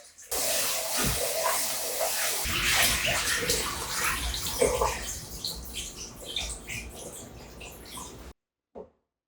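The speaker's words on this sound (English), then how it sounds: "I'm going to be running a whole bunch of extra water in here and vigorously stirring this around" Water runs and splashes steadily while basmati rice is rinsed and vigorously stirred in an Instant Pot, with sloshing noises, then cuts off abruptly, followed by a brief clatter.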